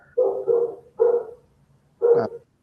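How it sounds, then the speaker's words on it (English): A dog barks three times close by in gruff, uneven bursts, with a short gap before the last bark. No one talks over it. "You can hear the dog."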